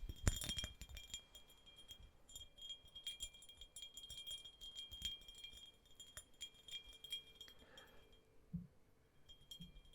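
Glass clinks softly as an ASMR trigger, a cluster of bright taps at the start followed by scattered quiet chinks and faint handling noises.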